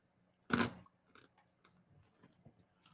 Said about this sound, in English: I forgot I had a cough drop in my mouth. So you probably heard me chewing